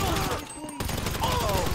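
Gunfire in Grand Theft Auto Online during a Diamond Casino vault robbery, a quick burst of shots followed by further rapid fire, heard under game audio and voice chat.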